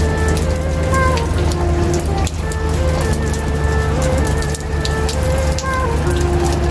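Steady rain falls outdoors, a dense continuous patter that holds at an even, fairly loud level throughout with no voices.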